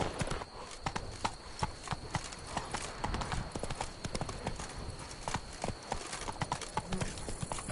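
Roach, a horse in The Witcher 3, gallops with a steady rapid clip-clop of hooves, close and fairly loud over a continuous outdoor ambience with no one talking.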